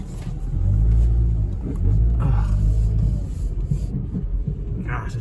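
An old car that sat unused for years, driven on flat-spotted tires, gives a loud, close rumbling engine drone that swells and eases twice, with rubbing, thumping road noise underneath and no speech.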